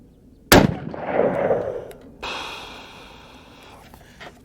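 A single loud .308 rifle gunshot cracks sharply in the open desert, followed by a fading rumble of echo and a brief later mechanical rattle.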